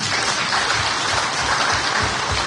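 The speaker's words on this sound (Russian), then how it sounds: "Ну аплодируют, значит довольны." Dense, steady applause from a large audience at a political speech, loud and continuous for a couple of seconds before cutting off abruptly.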